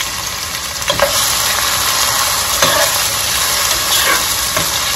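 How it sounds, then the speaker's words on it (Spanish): Onion and bell pepper fry in oil with a loud, steady sizzle and hiss. A few soft clicks of stirring are scattered through it. "Voy a llenar esta para que tenga aceite. Ok, mis amores, vamos a poner nuestro cebolla, nuestro pimiento,"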